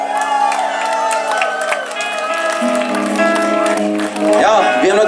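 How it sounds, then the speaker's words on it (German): At an open-air rock festival concert, the crowd applauds and cheers for three bands, with loud whoops and shouts rising over the clapping, and voices calling out close by throughout. "Also mal einen großen Applaus für die drei Bands,"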